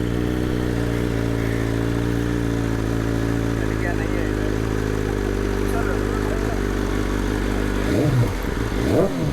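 A BMW S1000R M Sport motorcycle engine idling steadily with a deep, throbbing rumble, then rising in a couple of quick revs near the end.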